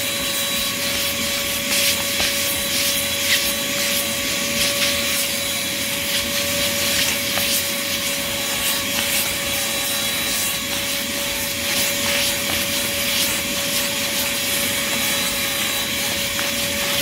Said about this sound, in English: this is a wet and dry vac